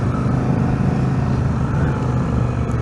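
A 2003 Yamaha XVS1100 V-Star cruiser motorcycle rumbles steadily while being ridden, its deep, loud engine drone constant and close with wind noise mixed in and no voices.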